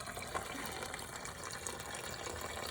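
A gas and water mixture drains from the fuel tank of a sunk boat in a quiet, steady stream of running liquid with small splashy fluctuations and no talking.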